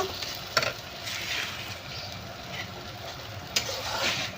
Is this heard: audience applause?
no